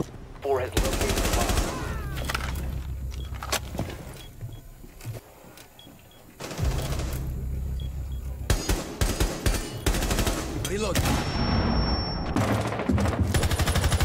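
Gunfire in the video game Rainbow Six Siege, with bursts of rapid shots and loud bangs in two busy stretches separated by a quieter pause, while a voice talks over the action.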